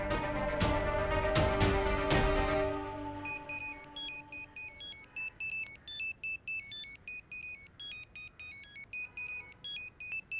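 A mobile phone rings with an incoming call, a repeating electronic ringtone of short bright melodic beeps in steady bursts, following a brief music cue at the start; no one speaks.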